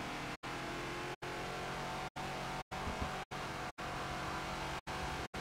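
Ford Falcon XB race car engine in the Forza game at the Daytona circuit, a loud continuous drone broken by repeated short cuts as the throttle lifts, roughly eight brief gaps in the steady roar.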